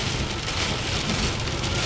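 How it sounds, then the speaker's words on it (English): Sudden heavy rain pours down during a road trip through Utah's national parks, a dense, steady roar of downpour with no pauses, loud and close throughout. "It just started raining out of nowhere."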